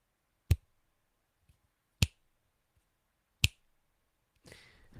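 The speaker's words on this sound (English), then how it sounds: "Now those clicks, snaps, finger snaps, should have been in sync." Three crisp finger snaps spaced evenly about one and a half seconds apart, sharp and close in a quiet room, followed by a soft rustle.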